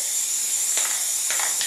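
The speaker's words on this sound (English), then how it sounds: "I'm going to spray tack my palette" Spray tack adhesive hisses from an aerosol can onto a screen printing palette before a test print on a black shirt, in two or three short close bursts over a steady background hiss.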